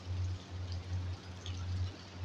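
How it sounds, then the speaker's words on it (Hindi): Heavy rain pours at night onto a flooded road, a steady, faint hiss of falling water over a low, pulsing hum. "इतनी तेज तेज बारिश आ रही है कि देखो पूरा रोड पानी से भरा हुआ है"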